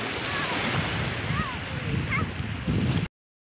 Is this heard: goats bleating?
no